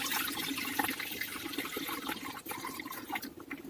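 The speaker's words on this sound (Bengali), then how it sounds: "এই যে দেখতে পাচ্ছ কড়া বসিয়ে দিয়েছি, এবার দেবো আমি জল।" Water pours steadily into a wok set on the stove for Maggi noodles, a continuous close splashing stream running for several seconds with no talk over it.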